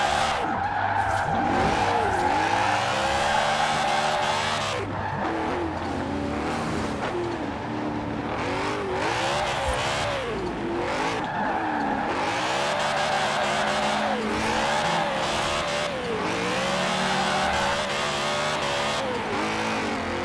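BMW E30 in Forza Horizon 4 roars through sustained engine revving with repeated tire squeal and skidding, loud and continuous with rising and falling pitch sweeps as gears shift and the car drifts.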